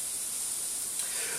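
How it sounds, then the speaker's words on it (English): Sweet corn and onion hitting a hot pan of browning minced beef, giving a steady, close, hissing sizzle that swells slightly partway through. "Now I'm going to put in the veg. This sweet corn, the onion,"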